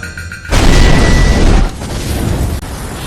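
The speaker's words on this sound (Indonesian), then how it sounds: "bis yang dinaiki tadi meledak" A bus blows up from a bomb in an Indian action film, a sudden loud booming blast that roars for about a second before breaking into rumbling debris and settling into a lower, noisy aftermath.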